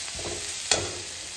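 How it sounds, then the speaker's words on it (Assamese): Potatoes sizzle steadily in a frying pan with a constant hiss, while stirring adds soft scrapes and one sharp clink of a utensil; no one speaks. "এয়া আলু ভাজি আছিলোঁ"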